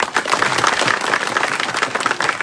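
A crowd claps at a political rally in Taranagar, a steady, dense patter of many hands that carries on without a break and fairly close.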